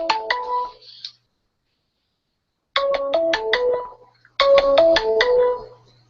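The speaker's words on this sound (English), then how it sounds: "That's Ed on the phone." A phone ringtone plays a bright, chiming melodic phrase, stops, then repeats twice more after a gap of silence, loud and clear with no talk over it.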